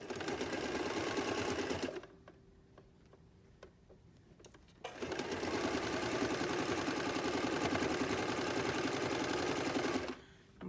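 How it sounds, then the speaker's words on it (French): A sewing machine stitching through two layers of terry cloth, running in a fast, close, rhythmic rattle, pausing for a few seconds, then stitching again in a long steady burst before stopping. "Si c'est un petit peu trop dur et que la machine elle rame un peu, on peut l'aider un petit peu en tirant légèrement derrière."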